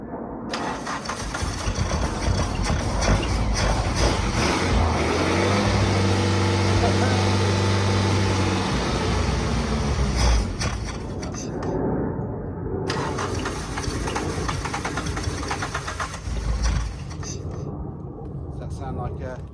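A 1.6-litre AWD Suzuki Swift five-door saloon engine revs up and down under throttle, loud and close, rising to a sustained roar mid-way before dropping back, with voices talking over it at times.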